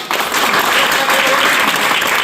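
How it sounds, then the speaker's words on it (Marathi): An audience claps for Madhukarsheth Jadhav at his birthday celebration at Jadhav Sankul, a dense, steady burst of applause filling the whole moment at close range. "यासाठी सर्वांनी विशेष एकदा टाळ्या वाजवा"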